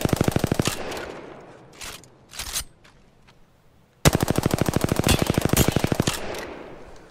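Rapid automatic gunfire in an Apex Legends match, a loud burst of fast shots, a pause with scattered single reports, then a longer sustained volley of rapid bangs.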